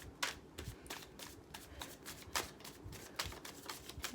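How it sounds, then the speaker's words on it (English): Tarot cards being shuffled by hand, a quiet run of soft riffling bursts and flicks at an irregular pace, close and without talk. "when I was shuffling"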